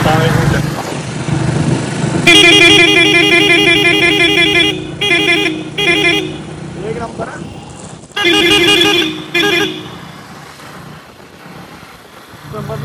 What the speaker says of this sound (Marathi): वाजव रे हॉर्न